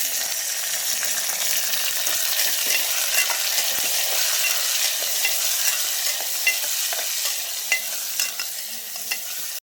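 Onion, tomato, cumin, mustard seeds and turmeric fry steadily in a pan on a home stove, a dense continuous sizzle with occasional scraping stirs and small pops.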